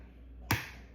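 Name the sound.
egg cracked directly into bread machine pan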